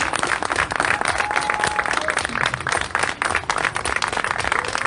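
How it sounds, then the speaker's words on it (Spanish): An audience at a comic book presentation during a book fair breaks into continuous, dense applause, steady and fairly loud for the whole stretch. "Fuertes aplausos entonces para Cuartel"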